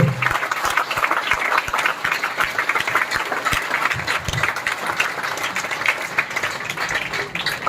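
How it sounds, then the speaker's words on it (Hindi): Applause from a seminar audience in a hybrid centre, with many hands clapping in a dense, continuous patter that keeps going the whole time, fairly distant and moderate in level. "तालियां रुकनी नहीं चाहिए"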